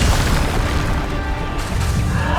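A loud, sustained booming blast from the Bombarda explosion spell in Hogwarts Legacy, a broad rumbling roar that fills the whole moment without any voice over it.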